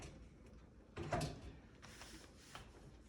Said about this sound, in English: And I'm going to shut the door.